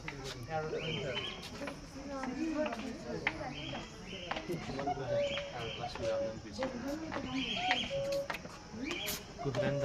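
Several junglefowl and other birds call from the distance at Darjeeling zoo, with repeated short cries and chirps, while a person talks over them throughout.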